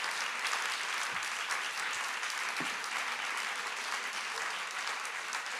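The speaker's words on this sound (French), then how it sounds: "Je vous propose un grand applaudissement" Dense, sustained applause from an audience at a talk and book event, a steady roar of many hands clapping at even loudness throughout.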